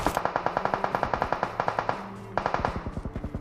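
Enemy automatic fire in BGMI, the mobile battle royale game, cracks out in loud, evenly spaced rapid shots, pausing briefly before a second string of rounds.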